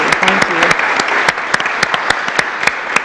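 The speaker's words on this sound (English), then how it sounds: "So a big round of applause for you." Applause breaks out at a Lynn Haven city commission meeting, a dense, steady clapping from the room with a few sharper individual claps popping out, lasting about three seconds with faint voices underneath near the start.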